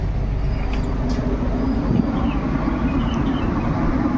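Argo Merbabu passenger train pulling into Pemalang station: a continuous low rumble of rolling carriages with faint squeaks and clatter, no talking.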